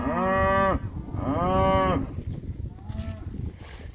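Cows bawl for their calves during an outdoor cattle drive to pasture: two long, loud, drawn-out moos come close together, followed by a shorter, fainter call over open-air background noise.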